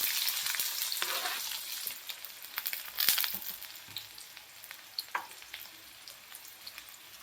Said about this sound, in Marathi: तो कांदा भाजून घ्यायचा आहे सगळ्यात पहिल्यांदा.